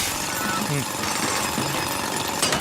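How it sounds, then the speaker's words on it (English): A robot bot drills on a Spiralite island in a Splatoon game, a steady grinding jackhammer-like rattle that runs loud and unbroken throughout. "you can go ahead and use the bot to drill"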